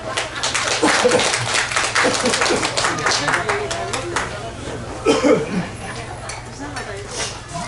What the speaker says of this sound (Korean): 어떻게 박수 한번 쳐주세요